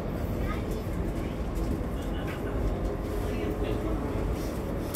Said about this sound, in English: This is a Valley Line train to 102nd Street.